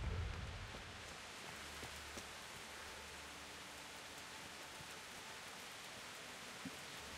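Steady rain in the medieval open-world video game Kingdom Come: Deliverance, a soft continuous hiss that holds evenly throughout with a faint low rumble early on and no voices.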